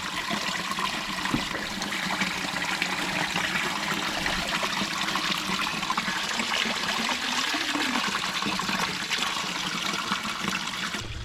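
Steady rushing and trickling of spring water fills the whole stretch, close and continuous with no voices.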